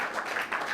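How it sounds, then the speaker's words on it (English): A brief burst of dense, steady applause from an audience at a city proclamation ceremony honoring the mayor, a continuous crackling wash of many hands. "can we give another round of applause to our great mayor"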